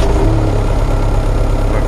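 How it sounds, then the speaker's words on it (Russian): A warmed-up 2003 MTZ-82.1 tractor with about 3700 operating hours runs its engine close by, a loud, steady, rumbling drone with no break or change in pace. "обратите, пожалуйста, внимание, насколько быстро и легко заводится данный трактор"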